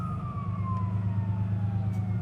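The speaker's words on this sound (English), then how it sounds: "So we have the ability to go lights and sirens" A fire truck siren in a driving simulator wails with a slowly falling tone over a low engine rumble, fairly loud and close.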